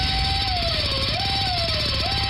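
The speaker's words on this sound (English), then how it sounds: "Does your trip to the dentist office sound like this?" High-pitched whining dental drill with a wavering pitch that dips and rises, continuous and close, over a low rumbling hum.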